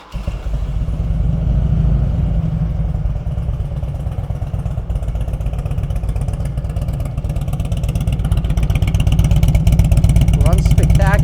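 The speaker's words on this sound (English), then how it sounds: "We are in neutral, and it's pretty much a cold start." A 1999 Harley-Davidson FLHRCI Road King Classic, fuel-injected, cold-started in neutral and settling into a loud, steady, lumpy idle with rapid rhythmic exhaust pulses, close up throughout.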